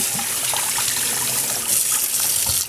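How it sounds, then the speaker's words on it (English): Running tap water gushes steadily while glue is rinsed out of dyed fabric, a close, constant splashing stream with no voices. "Get all this glue rinsed out."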